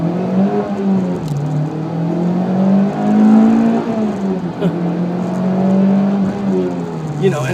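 A 2014 Mitsubishi Lancer Evolution GSR engine pulls hard under acceleration, its loud, rising and falling drone heard from inside the car with continuous engine harmonics.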